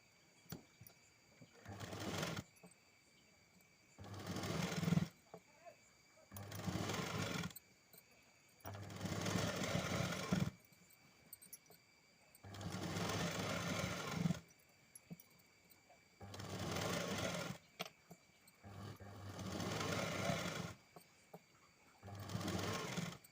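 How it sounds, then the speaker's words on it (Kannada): A sewing machine stitches a lining blouse in repeated bursts of steady whirring, each run lasting one to three seconds with brief pauses between them, close and fairly loud, with no talk. "ಈಗ ನಾವು ಸ್ಟಿಚ್ ಹಾಕತ್ತಾ ಇದ್ದೀನಿ ನಾನು"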